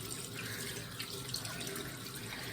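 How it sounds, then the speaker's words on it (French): Water runs steadily from a tap as hands are rinsed, a continuous close hiss and splash at a constant level without any voices. "je rince mes mains."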